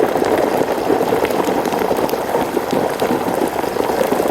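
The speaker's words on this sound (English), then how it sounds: "as you lower that down in there, it lowers the temperature and the boiling kind of gets less violent" A whole turkey sinks into a pot of hot frying oil, which seethes with a dense, loud, continuous crackling and bubbling hiss that holds steady throughout.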